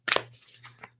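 Tarot cards are shuffled by hand in a few short, crisp riffling bursts with brief pauses between them, close and fairly quiet over a low steady hum.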